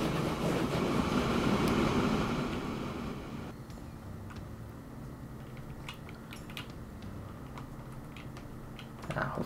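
A train rolls through a station in a video game, a steady broadband rumble that is loud for the first few seconds, then drops to a quieter hum with faint ticking and clicks.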